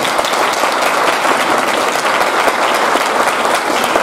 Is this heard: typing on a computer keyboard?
no